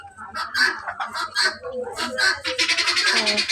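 A small flock of chickens clucks and squawks close by in an agitated burst as someone moves to catch them, with the chatter growing denser and more continuous toward the end.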